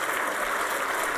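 An audience at a debate in Temple Judea, Tarzana, applauds after the talks: a dense, steady wash of many hands clapping together, sustained evenly from start to finish with no voices.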